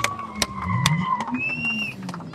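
Two cars drift together at a new car market in Armenia, their tires letting out sharp, wavering squeals over a rough engine roar, with a few sharp knocks mixed in. Fairly close, no speech.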